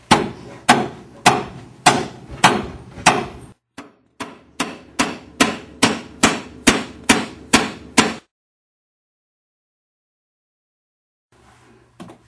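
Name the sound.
hammering to fasten a plywood patch piece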